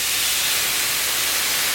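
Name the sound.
bourbon added to a hot pan of bacon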